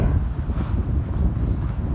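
Heavy, cold wind buffets a phone microphone outdoors among chrysanthemum pots, a continuous low rumbling roar with no other sounds standing out.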